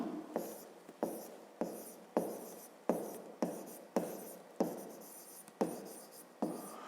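Handwriting during a maths lesson, with a regular series of about ten quick, close scratching strokes, each with a sharp onset and a short fade, against a quiet room.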